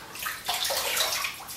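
Water splashes in quick bursts as hands bring it to the face during a wet shave, close and lively with no talking.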